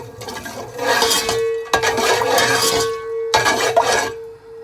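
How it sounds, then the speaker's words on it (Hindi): Dry spices frying in oil in a heavy-bottomed pot for chicken korma: a loud, steady sizzle and hiss, broken by a few sharp clatters of a utensil against the pot. "इसमें जो मैंने आपको खुश्क मसाला जात बताए थे वो शामिल कर लेते हैं और उन्हें 1 से 2 मिनट के लिए फ्राई होने देते हैं"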